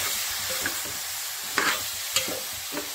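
Mori, a small shark, being sautéed in a pan, with a steady sizzle under repeated scraping stirs and a few sharper clinks of a spatula against the pan.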